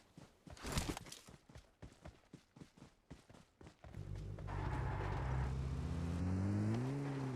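A car in a video game: uneven thumping steps lead into an engine starting, then a steady motor hum that rises and falls in pitch as the vehicle drives off.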